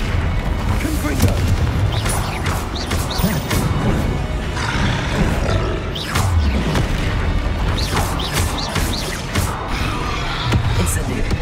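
Confringo fire spells burst in Hogwarts Legacy gameplay, loud crashing booms and rumbling blasts following one another across a dense, continuous barrage of combat noise.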